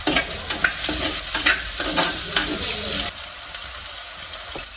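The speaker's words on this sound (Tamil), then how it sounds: "இப்போ பச்சை மிளகாயை போடுவோம் நாங்கள் கொஞ்சம் கருவேப்பிலையும் போடுவோம்" Green chilies and curry leaves hit hot oil in a pan for a spicy Jaffna-style crab curry, giving a loud, steady sizzle with brief crackles and stirring scrapes; the sizzle drops in level about two-thirds of the way through.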